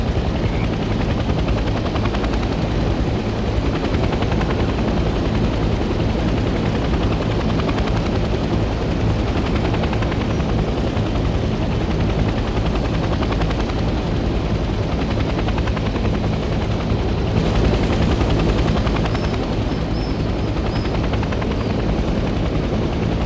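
Helicopter hovering and landing in HLL Vietnam, a steady loud rotor thrum and engine drone running the whole way through with no talk.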